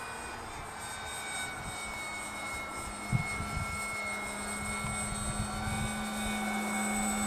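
A small plane drones steadily in flight, its engine and propeller hum constant and fairly loud while gusty wind buffets the airframe, with a brief thump near the middle.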